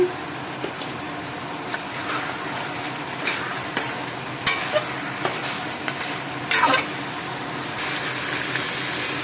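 Whole cardamom, cloves, cinnamon and bay leaf frying with meat being braised in a pan: a steady close sizzle with occasional scraping stirs and light clinks, no voices.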